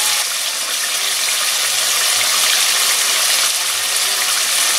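Ground beef boils in its own liquid in a pot while cooking for chili, giving a continuous loud bubbling hiss with no voices.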